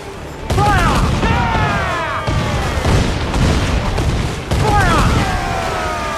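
Cannon fire in the Assassin's Creed Black Flag pirate game: a continuous, loud barrage of booming blasts over 6 seconds with rushing whistles, while voices shout over the roar.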